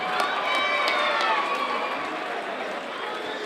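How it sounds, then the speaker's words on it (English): Audience at a live fight show applauding and cheering for a fighter, a dense, steady wash of clapping and crowd noise with scattered sharp claps, loud and sustained throughout. "Let's give him a round of applause."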